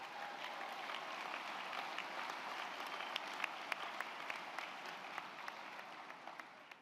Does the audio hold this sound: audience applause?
yes